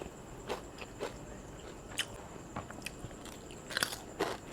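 Crispy fried dried fish being bitten and crunched, several close, sharp crunches spaced irregularly over a low background hum, with no talking.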